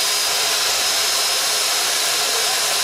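Power drill bores a hole through the rubber bearing of a boat, producing a loud, steady, high-pitched whirring hiss that holds unchanged throughout with no voices.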